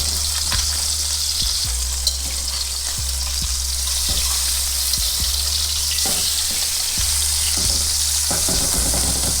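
Surfperch fillets pan frying in oil give a loud, steady sizzle with bubbling crackle, punctuated by occasional soft taps and stirring clicks, close by and without speech.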